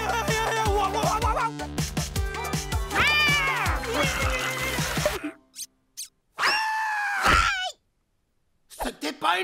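A cartoon cat meows over busy animated music and effects: several drawn-out, expressive meows and yowls, loud and close, with voices and a soundtrack mixed in around them.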